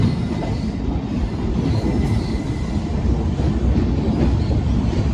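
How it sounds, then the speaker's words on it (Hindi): Delhi Pathankot SF Express picking up speed, a loud continuous roar of wheels on rails with rattling carriages and faint metallic squeals, heard from on board without talk. "यहाँ पर अपनी ट्रेन ने रेस दे दिया है"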